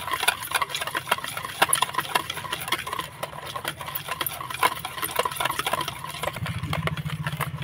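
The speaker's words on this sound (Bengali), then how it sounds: "সাদা তেলটা দিয়ে আবারও আমি মিশিয়ে নিব" A spoon or whisk stirs white oil into a creamy sugar and yogurt cake batter in a bowl, giving a steady run of close, quick scraping and tapping strokes with a low hum underneath.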